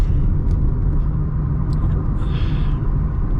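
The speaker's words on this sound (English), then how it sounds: "there are three kinds of noises: engine noise, wind noise, and tire noise" Cabin noise inside a Toyota Taisor with manual gearbox cruising on the highway at about 2050 RPM: a steady low engine and tyre rumble with faint wind hiss, continuous and even throughout.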